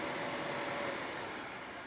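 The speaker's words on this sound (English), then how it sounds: "that's my vacuum cleaner again." A household vacuum cleaner runs steadily nearby with a loud, even whine and broadband roar, no talking over it.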